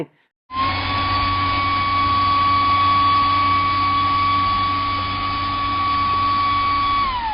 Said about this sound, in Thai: เครื่องเป่าลมไร้สายดีๆ ไว้ใช้งานสักตัวหนึ่ง